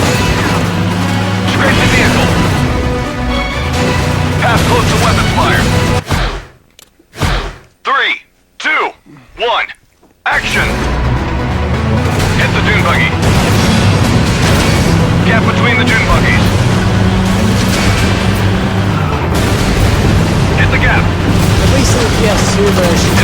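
Explosions and weapons fire in the PS2 stunt-driving game Stuntman Ignition, heard as a loud, dense mix of booms and thuds that briefly drops to near silence for a few seconds, cut by short sharp bursts, before the full roar returns.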